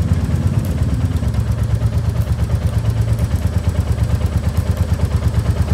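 A Royal Enfield Classic 350 BS6 single-cylinder motorcycle starts and idles close by, with a steady, loud thumping beat that keeps an even rhythm throughout. No one speaks.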